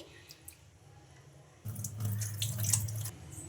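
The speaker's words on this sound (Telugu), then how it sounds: "ఇప్పుడు వాటర్ అయితే వంపేసుకొని" Water pours and splashes as it is drained from soaked idli rava for about two seconds after a quiet start, with some dripping and squishing, fairly close.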